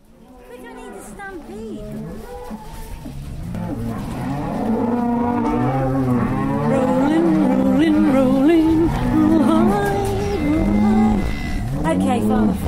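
Cattle moo repeatedly inside a cowshed in spring, with several overlapping, drawn-out calls building to a loud, busy chorus, while people talk underneath.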